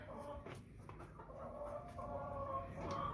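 An American Bresse chicken clucks in a barnyard setting, repeated short nasal clucks and murmurs at close range, moderately quiet, with faint background rustle and no talking.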